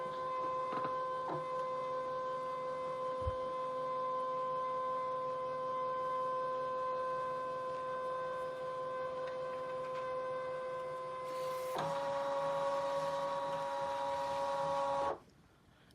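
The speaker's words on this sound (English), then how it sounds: "Now I'm going to scan the background." A craft cutting machine scanning a background sheet gives a steady electronic whir with a tonal hum, running unbroken for about twelve seconds, then shifts to a louder, harsher motor tone before stopping abruptly, close by, no talking.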